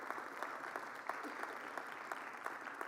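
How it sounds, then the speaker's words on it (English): An audience applauds steadily at a community legal event celebrating expungements, a dense, continuous wash of clapping hands at moderate level with scattered sharper claps, no voices standing out. "That deserves a round of applause."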